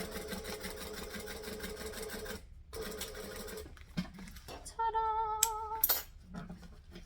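A sewing machine stitching a curved seam runs in steady bursts with brief pauses, joined by a few metallic clinks and higher tones near the end, close and moderately loud with no talking.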